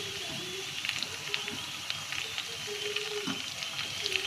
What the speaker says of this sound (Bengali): ভাজা ভাজা হয়ে গেছে এবার দিয়ে দিচ্ছে চাউমিন